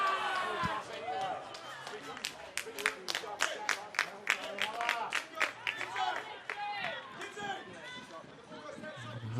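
Crowd at a Melbourne Victory versus Wellington Phoenix A-League football match, a broad roar of cheering and scattered clapping swelling and falling with sharp bursts, a commentator talking over it throughout.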